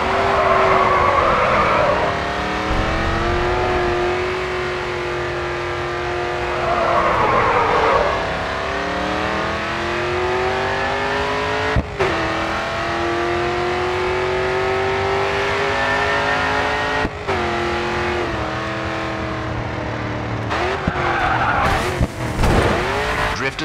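Race car in the Grid 2 racing game sliding through a drift, engine revving up and down while the tyres squeal in long wavering howls, loud and close, with no talk.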